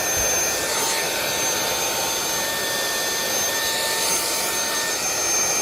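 A Meco Eleverde portable handheld brushless car vacuum runs continuously with a loud, steady high-pitched whirring hum of airflow, close and alone.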